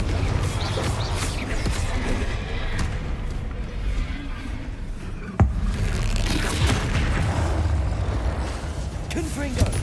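Confringo spell explosions in Hogwarts Legacy, heavy booms and crashing impacts amid continuous combat noise, with one sharp hit midway and a voice talking over the action.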